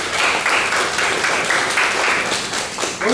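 Applause from a lecture hall audience fills the space as a dense, steady patter of many hands clapping, loud and sustained throughout, thinning slightly near the end.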